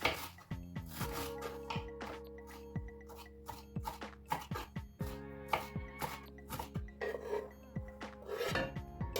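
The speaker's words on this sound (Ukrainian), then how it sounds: "Також сюди ми нарізаємо обов'язково зелень" Parsley greens being chopped with a knife for cold borscht: a run of quick, uneven chopping taps close by, heard over steady background music.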